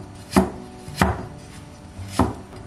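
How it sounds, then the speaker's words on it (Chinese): A knife slices through pig's trotter on a board for black vinegar pig's trotter, three crisp close cuts with short gaps between them over a quiet background. "而家系切片咯"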